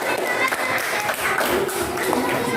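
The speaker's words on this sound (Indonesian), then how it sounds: "tepuk tangan dong" Students in an elementary classroom clap together after a game during a teaching practice lesson, a brief burst of mixed claps heard amid chatter and room noise.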